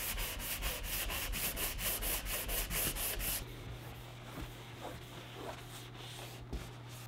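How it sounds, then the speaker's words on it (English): A wooden RV door being sanded by hand, with quick steady back-and-forth rubbing strokes up close that then turn slower, softer and more scattered. "I'm going to give it a good sanding again now"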